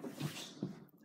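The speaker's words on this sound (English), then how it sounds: "Oh, bless you. You little sneezy sneezies." Two short, soft sneezes from a cat, close by, with a brief pause between them.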